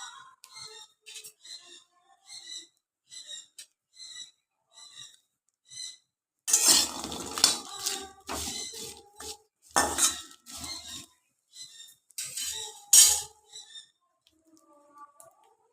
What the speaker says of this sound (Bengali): দেখুন কড়া বসিয়ে দিয়েছি আর এই কাঁঠাল বিচিগুলো ভেজে নেবো।